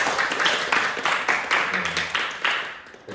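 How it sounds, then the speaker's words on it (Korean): Audience applause at the close of a church youth group lecture, a steady patter of clapping hands that swells and fades over a few seconds with faint murmuring beneath. "우리 박수 할까요?"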